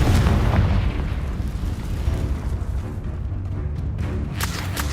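A Confringo spell detonates in Hogwarts Legacy, a loud, deep, booming blast that rumbles and slowly fades over a few seconds.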